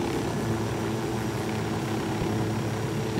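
A helicopter in the game Ghost Recon Wildlands drones with a steady, loud rotor and engine roar that runs unbroken throughout, with no voices over it.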